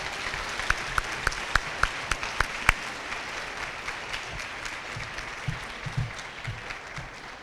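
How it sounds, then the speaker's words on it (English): Applause at a school seventh-grade awards ceremony, with a series of sharp individual claps near the start giving way to a steady wash of clapping from the audience, moderately loud throughout. "Please give you a round of applause."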